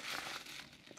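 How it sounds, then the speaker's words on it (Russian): Thin plastic bag from 2014 Aigo EROS H651 headphone packaging crinkles close by for about a second, a steady dry rustle without talk. "клеенчатый пакетик"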